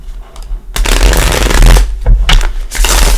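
Tarot cards being shuffled by hand, bursts of crisp riffling and sliding card noise up close, starting after a brief quiet moment and continuing in uneven waves with short pauses.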